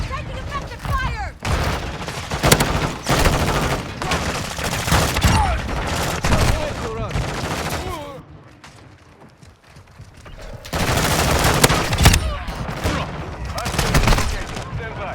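Sustained automatic gunfire in a shooter video game, dense loud bursts that pause mid-clip and resume, with mechanical clatter and a radio-style announcer voice talking over the action.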